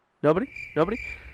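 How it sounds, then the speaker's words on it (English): Two short cricket chirps sound as an effect, each a sharp buzzy trill followed by a thin lingering tone, close and clear against quiet. "Crickets."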